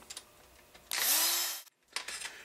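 A small power driver tightens screws on a Turtle Racing rear transmission plate, one short whirring burst rising in pitch, close, framed by light clicks and handling.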